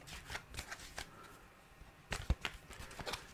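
Oracle cards shuffled by hand for a reading: two short bursts of papery riffling and tapping, close and quiet, with a brief pause between them and no speech.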